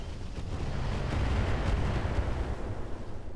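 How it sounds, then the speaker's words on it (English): Heavy mech weapons fire during an urban battle in the BattleTech mod Roguetech, a rumbling barrage of booming, overlapping blasts with crackling bursts that swells and holds steady with no talking over it. "Yeah, let's fire at him."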